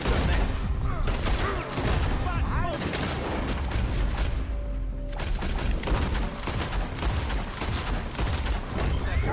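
Gunfire in Red Dead Redemption 2, a loud rapid fusillade of overlapping shots and booms with ricochets, nearly continuous throughout, with voices shouting faintly amid the shooting.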